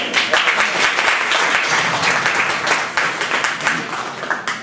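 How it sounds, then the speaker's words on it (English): Crowd at a Saturday night live podcast show giving a round of applause, loud close clapping with distinct individual claps over a steady crowd wash and faint voices underneath. "Round of applause for you."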